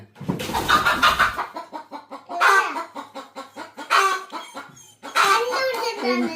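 Chickens cluck loudly and close by in repeated, overlapping bursts of calls, with rooster-like crowing mixed in across the whole stretch and no talking.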